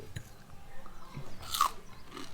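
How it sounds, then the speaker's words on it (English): A crunchy bite into fried kole fish dipped in soy sauce, a brief crisp crackle in the middle of quiet close-up mouth noise. "That was a crunch, dude."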